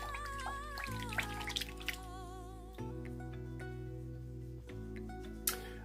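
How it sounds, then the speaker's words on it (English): A makeup brush being rinsed in water, with soft, intermittent drips and light splashing heard faintly beneath steady background music. "just rinse your brush off"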